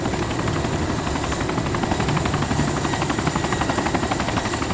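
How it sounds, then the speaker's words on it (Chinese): Helicopter rotor chop and engine whine fill the DayZ scene, a steady, loud pulsing thrum from a damaged craft that runs without a break and without voices. "有听到直升机的声音吗？"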